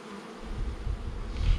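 Honey bees buzz during an inspection of an open beehive, a dense close drone that swells slightly toward the end, with no talking.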